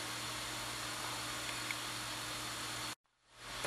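Electronics cooling fan and twin small 30mm hot-end fans on a Prusa i3 dual-extruder kit 3D printer: a steady airy whir cuts out abruptly, then quickly spins back up and builds again.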